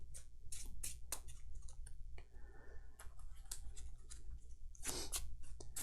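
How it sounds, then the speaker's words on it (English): A deck of game cards for the Marvel Champions card game being shuffled, with repeated crisp riffling bursts and clicks close up, the busiest flurry coming near the end. "I guess it would help if we shuffled Spider-Man's obligation in here as well"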